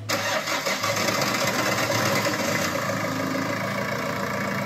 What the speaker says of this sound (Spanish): arranca con el conector del caudalímetro quitado